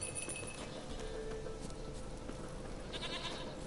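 Goat bleating in The Witcher 3, a steady game backdrop with faint clinks and a few brief high bleat-like calls, no talk over it.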